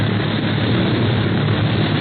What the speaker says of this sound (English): And there's the other plane ahead.